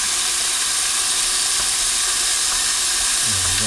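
Lamb pieces browning in a hot pot give off a steady, even sizzle with a soft steamy hiss, and a faint low rumble joins near the end.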